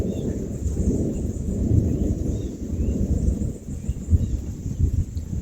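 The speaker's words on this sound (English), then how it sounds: "Lots of thunder." Thunder from a thunderstorm rolls and rumbles continuously outdoors, a deep, fairly loud roar that swells and fades without a break for several seconds, with no talking.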